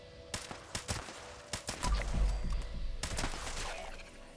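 Gunfire in the video game Fallout 76 as enemies are shot, with a run of sharp, loud shots and bursts spaced irregularly over a rumbling background.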